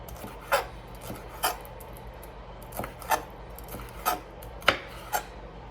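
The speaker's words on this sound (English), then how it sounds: "We are going to thinly slice the green pepper into thin strips." A knife slices a green pepper into thin strips on a cutting board, giving about eight crisp, evenly spaced cuts over a low background hum.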